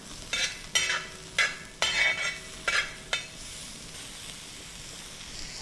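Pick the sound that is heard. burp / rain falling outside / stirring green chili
stirring green chili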